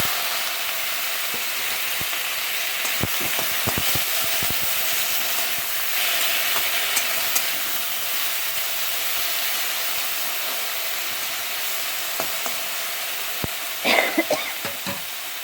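Chukor vegetable frying in oil with panch phoron, a steady close crackling sizzle with scattered sharp pops and ticks, a louder clatter of stirring near the end and no talking.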